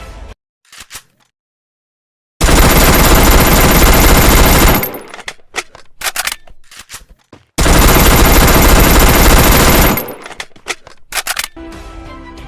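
Two long bursts of automatic fire from UMP and Vector guns in a video game, each a loud, dense, sustained rattle of a few seconds separated by quieter clicks and handling noises.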